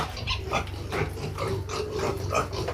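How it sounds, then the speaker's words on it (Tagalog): Plump piglets in a farm pig pen grunt and squeal in short, repeated bursts, close and fairly quiet, with scuffling underneath. "Ito na guys, ang aming kulungan ng mga baboy. Oh. May laman na siya guys ng mga biik."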